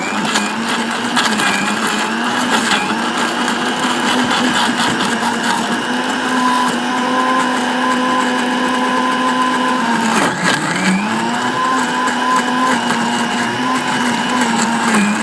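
Blender mixing a KitKat milkshake with chilled milk, a loud, steady motor whine with a constant high hum, briefly dipping and recovering partway through, running alone without talk.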